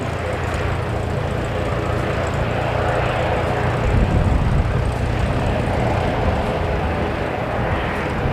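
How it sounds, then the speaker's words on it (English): A US Air Force Beechcraft Super King Air turboprop comes in to land, its propeller drone a steady, loud, broadband rumble that swells slightly midway through. "it looks like the Air Force Super King is getting in first"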